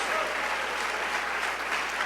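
Church congregation applauding together, a steady dense wash of clapping that stays loud and even throughout.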